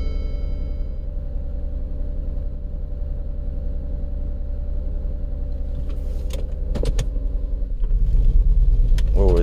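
A 2007 Lincoln MKZ with a 3.5L engine and a cylinder misfire runs steadily with a low, rough idle rumble, with a few clicks and a rising surge near the end.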